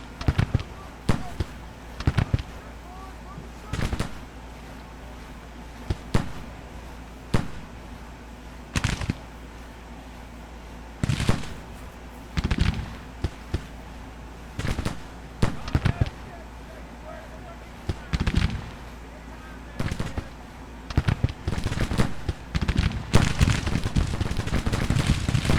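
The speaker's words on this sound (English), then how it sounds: "I think they'd already taken some counter battery fire" Civil War artillery batteries in the Grand Tactician strategy game firing counter-battery shots, scattered sharp booms and cracks at irregular intervals beneath ongoing talk.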